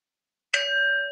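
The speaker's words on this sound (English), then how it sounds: "we'll invite three sounds of the bell and share a gata for inviting the bell" A meditation bell is struck once, ringing out with a clear bright onset and a steady sustained tone that holds evenly to the end, alone in otherwise silent surroundings.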